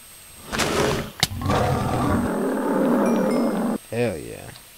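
A tiger roars in the video game Minecraft, a loud sustained growl that runs for several seconds, cut off at one point by a sharp click, then ends in a short wavering cry.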